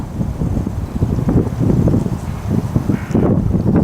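Gusty spring wind buffets a microphone on a farm on a grey March day, loud and rumbling with rustling in uneven waves.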